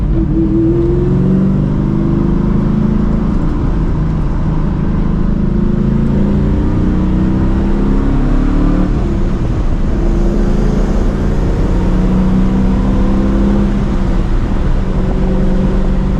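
A rare NewEdge Ford Mustang race car pulls away on a cold highway on-ramp, its engine droning loud and steady from inside the cabin as revs climb and shift, with no talk.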